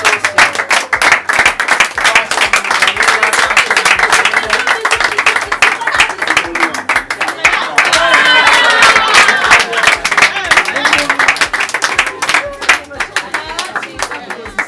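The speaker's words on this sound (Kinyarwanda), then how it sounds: "amashyi cyane" An audience applauds and cheers at a church event with a pastor present, a dense, loud, sustained wash of clapping and crowd noise, with voices mixed in.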